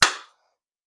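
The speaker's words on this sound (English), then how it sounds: "do another clap." One loud, sharp hand clap close by, with a short ringing room decay fading within about a third of a second, then silence.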